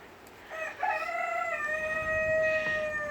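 A rooster crows once out back behind a chicken coop, a drawn-out cock-a-doodle-doo at moderate distance, with faint clucking from the flock around it.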